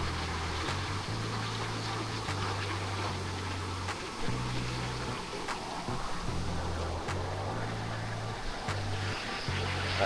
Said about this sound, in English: this is the actual waterfall